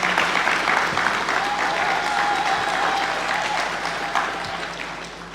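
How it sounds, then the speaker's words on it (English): A conference audience at the AfriSAFE safety congress in Nigeria applauds steadily for about five seconds, a dense wash of clapping that holds loud and even before thinning slightly at the end. "I think we need to give ourselves a round of applause."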